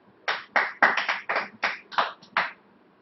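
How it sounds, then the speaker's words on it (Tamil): Several people clap their hands in a short, uneven burst of about ten crisp claps over three seconds, close and clear with no talk. "கைத்தட்டலாமே."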